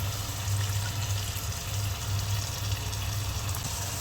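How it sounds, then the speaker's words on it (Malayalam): Water is poured into a pan of chicken roast, a steady gushing stream running close by for the full few seconds. "ഇതിലോട്ട് കുറച്ച് വെള്ളം ഒഴിക്കാം."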